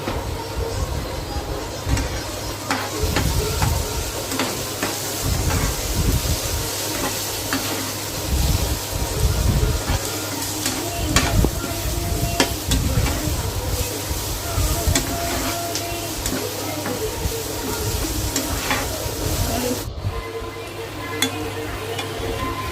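A spoon stirs masala gravy with fried amaranth leaves and liver in a hot pan, scraping and sizzling steadily and close for the whole stretch, with no voices.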